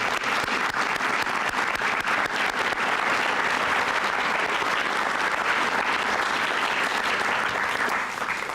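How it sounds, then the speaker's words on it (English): Steady, dense applause from a large audience at an EMS academy graduation ceremony, continuous and even in loudness throughout, with no talking over it. "I hope you'll join me in giving a round of applause to all of those partners"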